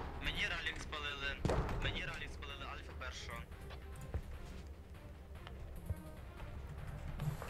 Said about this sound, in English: First explosion's coming out right now.